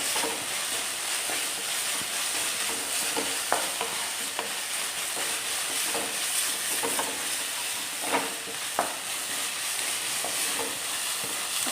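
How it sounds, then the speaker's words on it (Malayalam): Onion, green chilli and curry leaves sauté in a pan for chicken samosa filling, giving a steady close sizzle and hiss broken by irregular scraping stirs and clinks of the spoon, with no voices. "ഒന്നുകൂടെ ഒന്ന് വഴറ്റിയെടുക്കാം."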